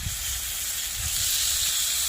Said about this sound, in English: Then we'll stick them right in the frying pan.